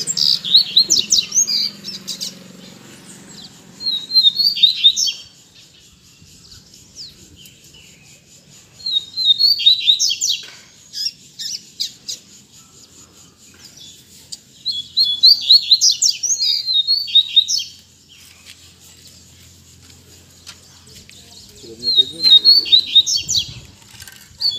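Caged coleiros (double-collared seedeaters) sing bright, fast twittering phrases in a repeating pattern, loud and close, with quiet pauses between the bursts of song.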